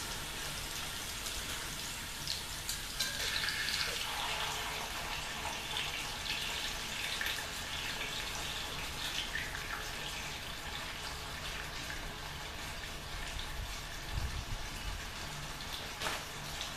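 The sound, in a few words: bone-in pork chops browning in oven over coals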